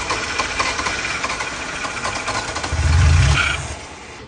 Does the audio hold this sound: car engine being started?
yes